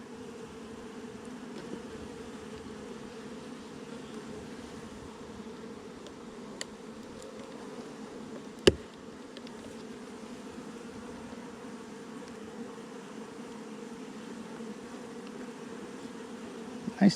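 Honey bees hum steadily around an open hive split with a mated, laying queen, a dense continuous buzz at close range with one sharp click partway through and no talking.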